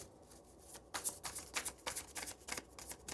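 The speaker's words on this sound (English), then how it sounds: "Let me shuffle one more time." Tarot cards being shuffled by hand, close and crisp, with a steady run of riffling bursts after a quieter start and no talking.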